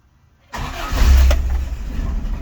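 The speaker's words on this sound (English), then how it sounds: "and it does fire up, but it's better if you pump the gas at least once." The 20R engine of a 1975 Toyota SR5 pickup with a five-speed manual is cold-started: after a moment of near silence it cranks briefly, then fires and settles into a loud, steady rumbling idle close by.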